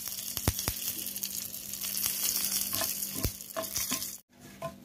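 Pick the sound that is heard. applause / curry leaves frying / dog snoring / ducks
curry leaves frying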